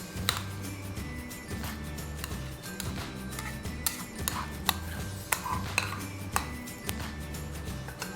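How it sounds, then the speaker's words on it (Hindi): Ingredients tipped into the jar of a Cello Heavy Duty 550W mixer grinder make repeated light clinks and knocks against the container, scattered across a steady low background hum. "अब मैं इसमें जो भी इंग्रेडिएंट्स हैं, जो भी हमें ग्राइंड करना है, वो मैं डालता हूँ।"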